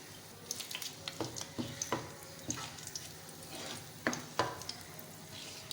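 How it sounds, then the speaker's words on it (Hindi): Whole spices, including black and green cardamom, cloves, black peppercorns and bay leaves, fry in hot oil left from frying onions, giving a steady close sizzle with scattered sharp ticks and pops from stirring. "इनको हम अच्छे से फ्राई करेंगे 1 मिनट।"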